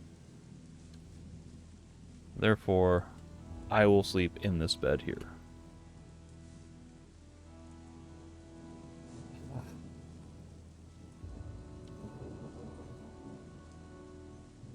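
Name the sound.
rain and thunder in the video game Chronicles of Myrtana: Archolos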